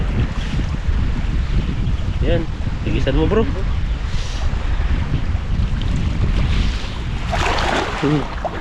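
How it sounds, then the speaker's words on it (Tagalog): Strong wind buffets the microphone in a constant low roar by a river, with brief Tagalog voices breaking through now and then. "Mahangin pala no."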